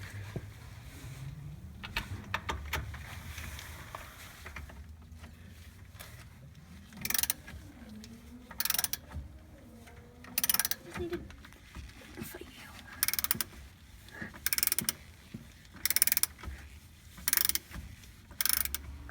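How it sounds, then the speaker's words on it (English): A hand ratchet loosens the two 13/16 caliper bolts on a C6 Corvette Z06 brake, giving bursts of quick clicking ratchet strokes, intermittent and fairly close, with soft background noise and low murmuring between them. "It doesn't take much time to remove the 2 13/16 bolts holding the caliper on"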